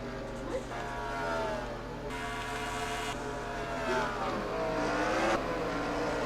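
Packed field of NASCAR Cup race cars in the NASCAR Racing 2003 video game, a steady engine drone with shifting pitch as cars accelerate past, moderately loud and continuous.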